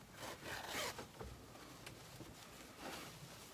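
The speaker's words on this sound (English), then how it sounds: "I found there's a zipper in here" A soft zipper being drawn, with raspy sliding bursts near the start and again toward the end, quiet and close.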